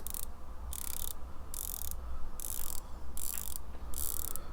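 A stainless steel watch bezel on a Pagani Design PD-1719 is turned in repeated bursts of crisp ratcheting clicks, each burst under half a second with short pauses between, close and clear with no talking.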